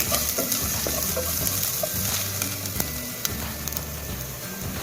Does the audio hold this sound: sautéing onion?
yes